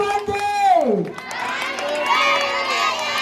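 A crowd at a birthday celebration shouts and cheers, a dense wash of high-pitched voices and screams, with one voice talking over the noise at the start.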